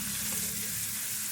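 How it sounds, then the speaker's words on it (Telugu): Tomato pieces frying in hot tempering oil give a steady, dense close-up sizzle that hisses evenly through the brief moment with no pauses and no speech. "ఈ పోపు అంతా తాలింపు అంతా వేగిన తర్వాత ఈ టమాటా ముక్కలు వేసి వేయించుకోవాలి."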